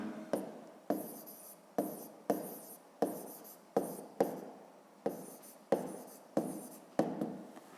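A pen writes on paper while a fifth-grade geometry exercise is worked out, about a dozen short scratchy strokes in a steady rhythm, close and fairly quiet, with no talking.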